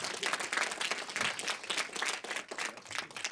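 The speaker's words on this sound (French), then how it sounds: "on peut l'applaudir s'il vous plaît" Audience applause at a film screening event in Paris, a moderate, steady patter of many hands clapping with slight swells, heard on its own.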